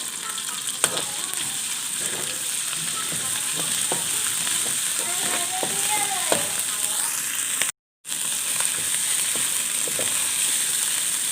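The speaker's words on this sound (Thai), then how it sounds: "เอาพริกแกงลงไปผัดให้หอมเลยเด้อจ้ะ" Red curry paste stir-fries in a hot pan for a pork belly stir-fry, a loud continuous close sizzle with repeated scraping and clinking of a spatula against the pan, a brief dropout near the end.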